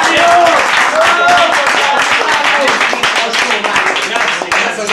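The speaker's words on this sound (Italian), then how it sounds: "Ancora un saluto e un applauso caloroso." A party audience claps in dense, continuous applause that stays loud and even for several seconds.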